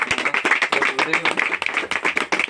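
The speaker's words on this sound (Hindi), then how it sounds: "हमारे बीच रूबी लेवल पे जलालुद्दीन सर के लिए जोरदार तालियां।" Close, vigorous clapping from an audience at a company meeting, rapid uneven claps with a voice talking over them throughout.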